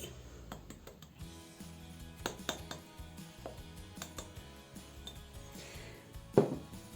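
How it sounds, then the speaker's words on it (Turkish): A spoon stirring vegetable oil and powdered sugar in a mixing bowl for flour cookies in a village kitchen, making sparse, irregular clinks and scrapes against the bowl, with one sharper knock near the end. "Yağ ile pudra şekerimizi şöyle bir karıştırıp şekerimizi eritelim."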